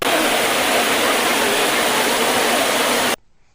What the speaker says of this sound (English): R for rain.